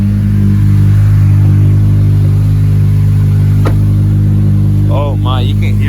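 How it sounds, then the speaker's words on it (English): An Acura TSX engine roars loudly and steadily with a raspy, leaky exhaust note from a custom exhaust, a brief sharp click partway through, and a voice speaking near the end. "you can hear the exhaust leak right there"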